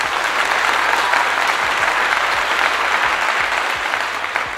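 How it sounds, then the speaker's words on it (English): A live audience at a talk event gives a round of applause, loud dense clapping that holds steady throughout, with a faint low tonal hum running underneath. "Round of applause."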